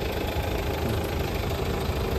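A diesel engine on a 9-seater van idles close by, a steady, even rumble with a faint knocking vibration and no change in pace.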